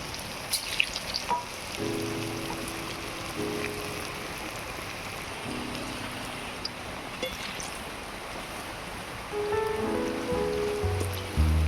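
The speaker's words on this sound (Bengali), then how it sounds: "এই একইভাবে আবারও বাকি কোপ্তাগুলো ভেজে নেব" Steady crackling sizzle of banana-flower koftas deep-frying in hot oil, continuous throughout with a few clinks of utensils, no voices.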